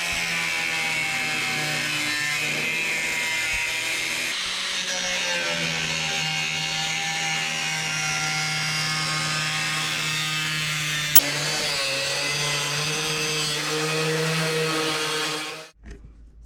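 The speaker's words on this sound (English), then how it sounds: "He's gonna get the cutoff wheel and we're gonna start cutting." Abrasive cutoff wheel grinding steadily through a 2007-18 Jeep JK hood for a snorkel install, a continuous loud whine with shifting tone that holds for about fifteen seconds, then abruptly stops.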